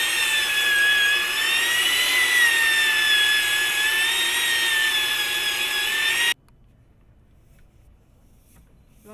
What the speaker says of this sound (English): Drilling a hole so that we can put our PVC conduit down in there.